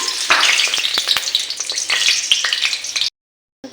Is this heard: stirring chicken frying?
yes